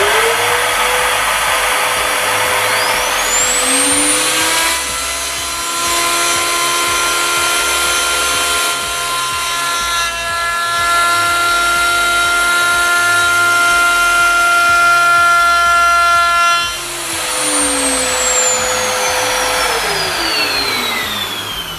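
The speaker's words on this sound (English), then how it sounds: "using the router, we want to do a scribing cut along this edge to prevent any tear out in later cuts" Router cutting a shallow scribing pass along a board edge on a dovetail jig, a loud steady high whine that spins up, holds evenly for about twelve seconds, then winds down, with no talking.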